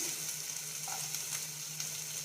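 Chilies and garlic cloves sauté in a pan with salt, making a constant even sizzle with a faint hum underneath and no voices.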